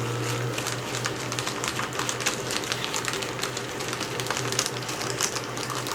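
A Bonsaii C144 E paper shredder chews through a thick valve-pack envelope with a steady, loud mechanical whir and dense crackling of cutting, holding a constant low motor hum throughout.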